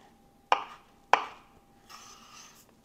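A kitchen knife slices through an onion for Cuban-style bean soup, two crisp separate chops close to the mic followed by softer scraping on the board, with no talking.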